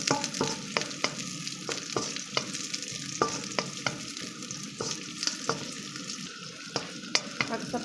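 Aromatics including Chinese onion fry in a pan over lowered heat while cooking sotanghon, giving a steady close sizzle broken by regular scraping stirs of a utensil against the pan.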